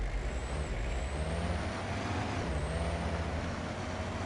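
A vehicle rumbles along with a steady low drone while being driven through the hunting game Way of the Hunter, with a faint whine riding on top and no voices.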